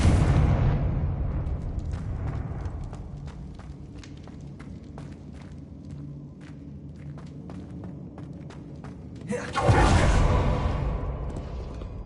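A Confringo blasting spell explodes in Hogwarts Legacy. An opening boom fades into scattered crackling debris, then a second loud, broad blast erupts near the end and slowly decays.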